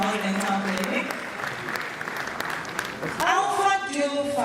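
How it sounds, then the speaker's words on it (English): Applause for a dental clinic at an event in Kenya: steady clapping from a gathered audience fills the whole stretch, loud and continuous, with a voice rising over it near the end. "Please let's put our hands together for Broad Smiles Dental Clinic"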